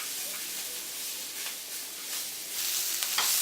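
Vegetables seasoned with salt and pepper sizzle steadily in a hot pan while being stirred, a continuous bright frying hiss with soft scraping strokes building louder toward the end.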